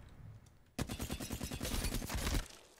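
Rapid burst of automatic fire from a Reactive Flatline rifle in Apex Legends, starting abruptly and rattling continuously for about a second and a half before cutting off, loud and close with no talk over it.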